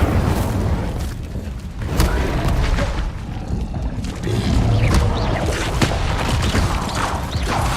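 Fiery spell blasts from Incendio casts in Hogwarts Legacy, dense booming whooshes and crackles piling up continuously at close range, loud throughout with repeated bursts.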